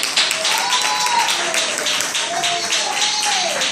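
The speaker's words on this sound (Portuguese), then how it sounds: "E as palmas glorificam a Deus." A church congregation claps during worship, a dense burst of applause with quick rhythmic hand claps and a sung or spoken voice gliding over the top.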